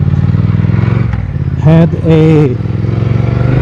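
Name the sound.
motorcycle engine idling on test run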